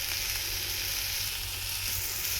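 Horse gram frying in a pan, giving a steady, even sizzle that runs loud and close from start to finish with no talking over it.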